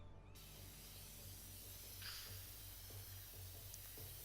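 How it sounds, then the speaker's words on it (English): A spray paint can hisses steadily while graffiti is sprayed in the game Infamous Second Son, with a continuous faint spray and small clicks and rattles underneath. "spraying it with the R2 button like it is actually like a can of spray paint"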